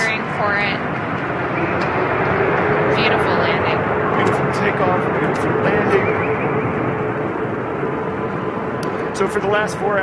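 Boeing 777-9X airliner on its first test-flight landing at Boeing Field in Seattle, a sustained jet engine roar heard from a distance with a commentator's voice over it.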